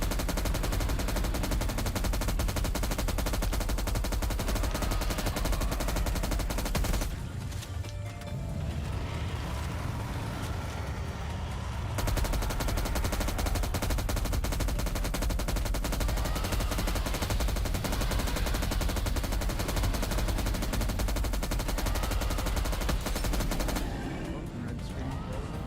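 Gunfire from an insta-kill gun in a video game, loud and dense bursts of shots sustained through most of the stretch, easing off briefly in the middle, with talk and game sounds mixed in.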